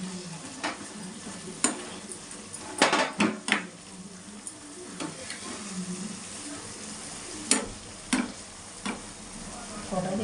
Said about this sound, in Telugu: పన్నీర్ ముక్కలు వేసేస్తున్నాను.